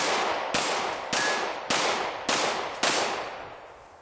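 Five sharp gunshots fired at steel plates on a homemade plate rack, spaced about half a second apart, each loud crack followed by a ringing decay.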